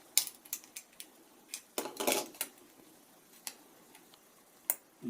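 Knife scoring a metal can, sharp metallic ticks and scrapes at close range, scattered irregularly with a denser burst of scraping in the middle, over near silence.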